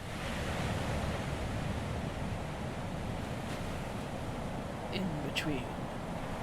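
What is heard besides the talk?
ocean waves ambience in video game Our Life: Beginnings and Always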